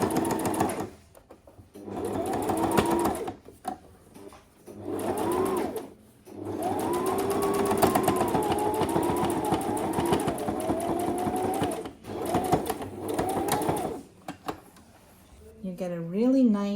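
A sewing machine runs in sustained bursts while stitching a flat seam, driven back up the seam with short pauses between runs. A voice talks over parts of it.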